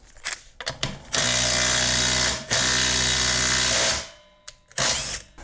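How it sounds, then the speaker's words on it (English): A power tool tightening a 14mm nut to draw an axle stud into the housing on a 3rd gen Toyota 4Runner rear axle rebuild; two long loud whirring bursts, with short clicks and clatter before and after. "we're gonna go ahead and tighten this, and that'll draw this stud back into the housing"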